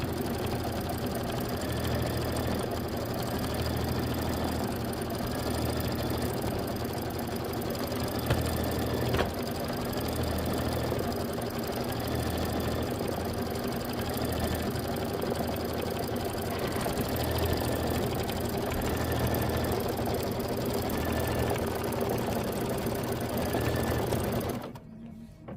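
A sewing and embroidery machine stitches out filler blocks for a Kimberbell May mini quilt, giving a steady close-up whir with a fast, even needle rhythm that runs without a break and cuts off abruptly at the end.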